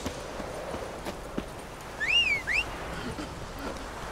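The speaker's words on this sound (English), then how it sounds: "Okay, so then I'll just call my horse." Roach the horse arriving in The Witcher 3 video game, a brief bright whistle-like call heard once near the middle over a quiet, steady game backdrop.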